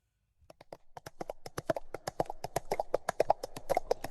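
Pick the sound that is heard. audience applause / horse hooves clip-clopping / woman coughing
horse hooves clip-clopping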